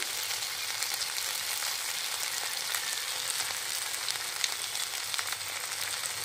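Tomatoes sautéing in a pan for Bengali-style matar paneer give off a steady, close sizzle with fine crackling that holds at an even level throughout, with no voices.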